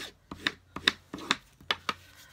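A paper card edge being burnished by hand, heard as about six short, close scraping rubs in an uneven rhythm with brief pauses between them, alone without talk.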